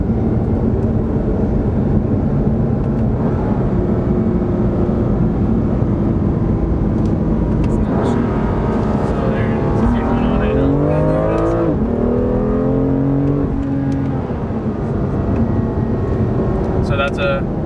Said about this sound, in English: So if I go ahead and downshift here.